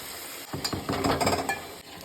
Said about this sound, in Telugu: మిక్సీకి వేసుకున్న పచ్చడి వేసేయాలి.